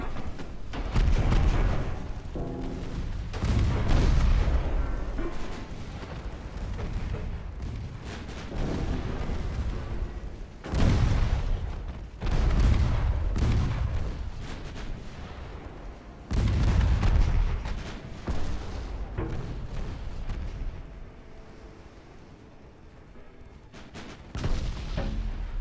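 A 5-inch naval gun fires in the warship game Ultimate Admiral Dreadnoughts, its heavy booms arriving in loud, rolling bursts several seconds apart, each fading into a low rumble before the next salvo.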